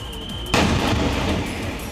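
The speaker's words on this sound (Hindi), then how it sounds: "ये देखिए कैसे एक जोरदार धमाका और धमाके से इसको ध्वस्त कर दिया गया।" A three-storey building is brought down by a controlled demolition blast, a single sudden loud boom followed by a sustained rumbling roar of collapsing debris.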